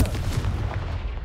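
A Confringo blasting spell goes off in Hogwarts Legacy, a short, dense, booming burst that holds at steady loudness through its brief length with no voices.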